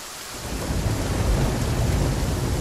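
Steady heavy rain and a deep rolling rumble of thunder from the survival video game The Flame in the Flood, loud and continuous with no voices.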